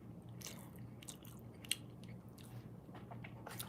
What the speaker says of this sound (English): I'm just chewing.